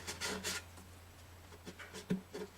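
Rough sandpaper rubs across a Gibson J40 acoustic guitar in short, faint, breathy strokes, a few quick passes near the start and more near the end, over a low steady hum.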